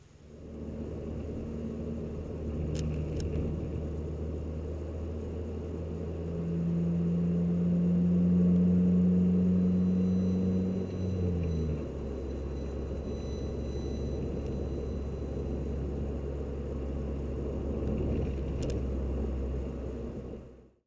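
A car driving on the road, heard from inside as a steady low engine and road rumble that swells in the middle, dips briefly and fades away at the end.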